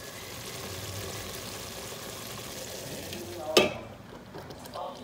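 Vegetables and sambar masala frying and being stirred in a pan, a steady soft sizzle running throughout with a brief louder scrape or clatter near the end.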